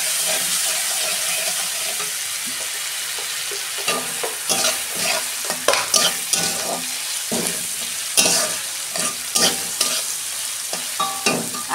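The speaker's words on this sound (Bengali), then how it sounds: "এই যে পেঁয়াজ ভাজা হয়ে গেছে, আমি রসুন বাটা দিচ্ছি" Onions fry with garlic paste in a pan for a curry made with elephant foot yam and potato, a steady sizzle broken by repeated scraping spoon strokes in uneven bursts, close and alone.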